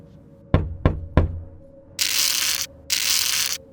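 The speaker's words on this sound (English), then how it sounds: "Again, they heard a noise at the door." Three sharp knocks land on a classroom door, evenly spaced and close, followed by two longer bursts of hissing, scraping noise.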